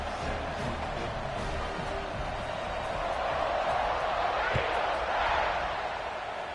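Crowd noise fills a college football stadium during a kickoff, a steady broad roar of cheering fans that swells slightly toward the end, continuous and loud throughout.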